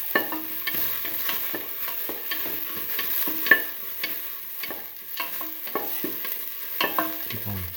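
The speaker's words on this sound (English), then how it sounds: "Keep on sauteing." Onions and fennel seeds sauteing in a pan, with a steady soft sizzle under repeated scrapes and taps of a spoon stirring, close and moderately loud with no talking.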